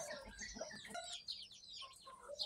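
A Burmese fighting rooster, recently trained for the ring, gives a quick series of soft clucks and short chirping calls, faint and close, with no talk over them.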